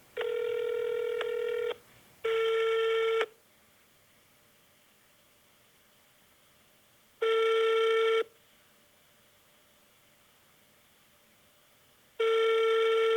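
Telephone ringback on a call to a law firm's number: four loud, even tonal rings in separated bursts, two close together at the start and two more spaced apart later, with near-silence between them and no voices.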